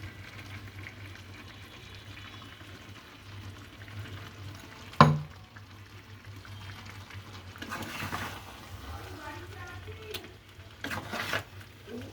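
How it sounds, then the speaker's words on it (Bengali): Two large tomatoes' worth of puree goes into a pan of chicken curry, landing with a sharp splat followed by soft sizzling, bubbling and stirring under a low steady hum. "আর এবার আমি অ্যাড করব 2টো বড় টমেটোর পিউরি।"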